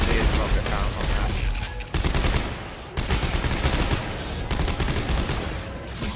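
Dense, continuous gunfire in Dead Space 3 on Impossible difficulty, rapid automatic shots hammering close and loud with brief pauses between bursts.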